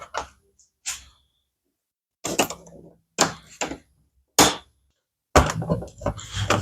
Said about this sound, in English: the first step is to remove all this plastic here